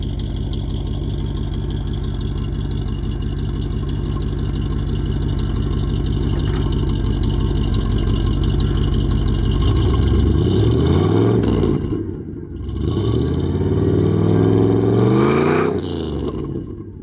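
A 1970 Cadillac DeVille with a 472 big block V8 idles with a deep, loping rumble, then revs up twice in rising and falling surges, loud and close, with no talking.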